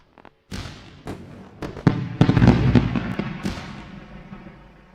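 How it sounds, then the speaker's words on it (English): Fireworks sound effect: a string of sharp, loud bangs and crackles, starting with a few spaced pops and then building into a dense, rumbling barrage that slowly fades out. "We need the fireworks today as well."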